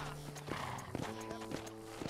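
A horse in the video game Red Dead Redemption gives a drawn-out whinny followed by a few hollow clip-clop hoofbeats, close and moderately loud over a low game background.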